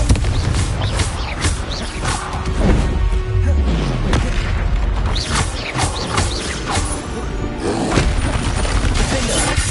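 Confringo and Bombarda spell blasts firing in the Hogwarts Legacy video game, loud repeated booms and crackling impacts in rapid succession over dense battle noise, with a voice shouting spell names throughout.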